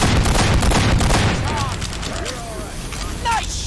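Rapid gunfire bursts from the Team Fortress 2 Mann vs. Machine mode fill the opening seconds, loud and dense, then ease into a busier game mix with voices and whistling tonal effects.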